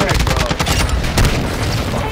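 Gunfire in the shooter Warzone 2, a dense burst of rapid shots and booms crackling continuously and loudly through the moment with a brief flurry of louder blasts midway.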